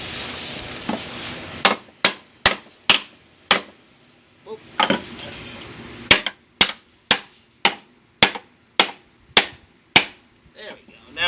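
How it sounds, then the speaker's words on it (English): A hammer strikes a satellite dish that is being pried apart for scrap, giving sharp, ringing metallic whacks. They come in two rapid bursts of about five and ten blows, close and loud, with a short pause between the bursts. "let's give it a few whacks and see if anything separates."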